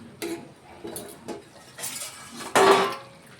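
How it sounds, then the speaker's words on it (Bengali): A lid lifted off a pot of taro root simmering on a medium gas flame: several light metallic clinks and scrapes, then a louder clatter near the end. "আমরা একবার ঢাকাটা খুলে দেখে নেব।"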